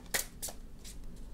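A deck of tarot cards is shuffled by hand, giving a few quick, crisp riffling bursts close to the listener against quiet background noise.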